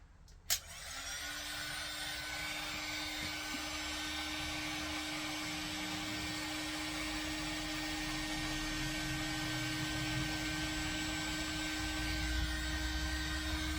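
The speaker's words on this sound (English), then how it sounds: "Okay, so now, got my heat gun." A heat gun fitted with a diffuser blows steadily, a continuous broadband whoosh with a low hum, used on a B-Mix 5 clay with grog bat coated in sodium silicate; it starts after a brief click and runs unbroken.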